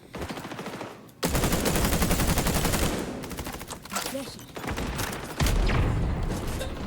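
A light machine gun fires long, rapid sustained bursts in the shooter XDefiant, loud and close, with brief pauses between volleys and a dull boom near the end.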